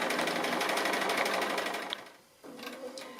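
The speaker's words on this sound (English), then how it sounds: "And I'm just going to double stitch that just there, and then I can finish that bit off." A sewing machine stitching a tree applique quilt block: a fast, steady mechanical whirr that slows and drops off briefly before starting again, close and clear.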